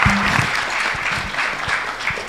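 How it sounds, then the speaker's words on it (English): Steady crowd applause fills a scout assembly hall as scouts take their seats after a formation, dense clapping sustained throughout at moderate loudness. "Give them a round of applause as they take their seats."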